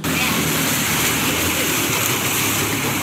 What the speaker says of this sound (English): water's coming over the side, so I hope it's got a bilge pump